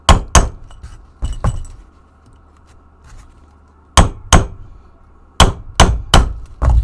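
A hammer beats rivet heads flat against metal while building a LARP shield: about ten sharp, ringing clanks in quick pairs and short bursts, with quiet pauses between them, loud and close.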